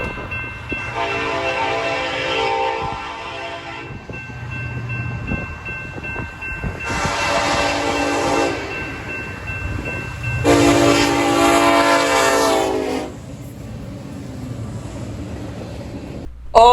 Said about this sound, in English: This next train is the MEWMX with the 1943 Spirit of the Union Pacific SE-78H leader.